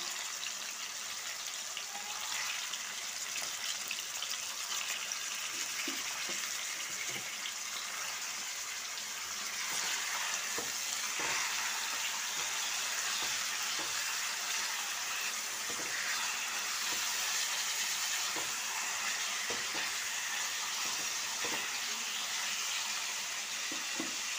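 Chicken pieces and three large tomatoes fry in hot mustard oil with mustard seeds, giving a steady loud sizzling hiss broken by scattered crackles and pops throughout, with no voices.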